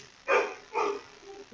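A pet dog barks twice indoors in the background, two short, fairly close woofs about half a second apart, followed by a faint whimper.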